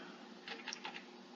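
Typing on a computer keyboard: a handful of quick, faint key clicks in a short burst over a low background hiss.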